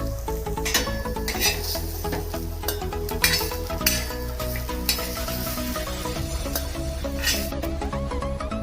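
Steady sizzling of onion frying in a pan until browned, with occasional light clinks and stirring sounds throughout, fairly close and continuous.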